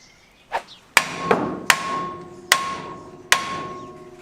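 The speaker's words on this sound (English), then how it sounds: "Okay, well, demo hammer. The truck had a receiver. I hit that." Demo hammer striking a Corvair starter, five sharp metallic blows with ringing decay, spaced irregularly, close and loud, preceded by a softer knock.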